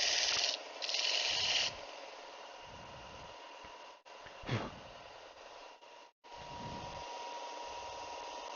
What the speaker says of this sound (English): belt sander over here.